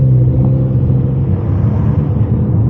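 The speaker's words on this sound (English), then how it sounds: "He's about to rev his shit up." A lowered, bagged Acura rumbles on a city main street, its engine giving a loud, steady low-pitched drone close by that swells slightly as if revving, with no voices over it.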